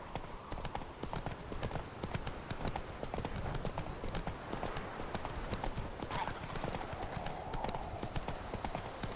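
Steady clip-clop of hoofbeats from Geralt's horse Roach in The Witcher 3, trotting continuously at close range, with faint game ambience and a brief voice in the background.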